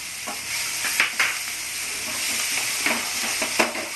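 Drumstick pieces (sajne danta) fry in a pan for Bengali sukhto, a soft steady sizzle broken by sharp scraping stirs at a close distance, with no voices.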